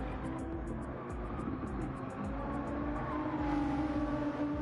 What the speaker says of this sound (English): And the GTR sounds very nice